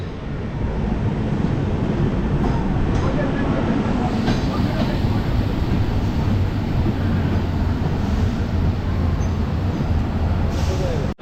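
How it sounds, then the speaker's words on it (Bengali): A loud, continuous rumble of the Azad Hind Express passing on the opposite track fills the whole clip, heavy and close, with a faint hiss of air brakes. "উল্টো দিক দিয়ে আজাদ হিন্দ এক্সপ্রেস যাচ্ছে হাওড়ার দিকে।"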